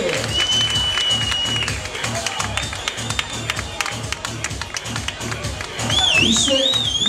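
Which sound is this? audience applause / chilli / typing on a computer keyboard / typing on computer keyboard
audience applause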